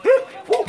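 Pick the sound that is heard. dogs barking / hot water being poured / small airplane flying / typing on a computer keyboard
dogs barking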